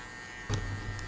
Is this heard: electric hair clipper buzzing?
yes